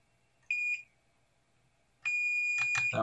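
An OWON XDM1041 multimeter gives two continuity beeps: a short high electronic tone, a pause of over a second, then a longer steady beep, with faint clicking near the end.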